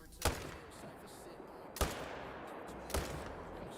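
Three loud, sharp gunshots spaced about a second and a half apart, each with a short booming tail over a low background rumble.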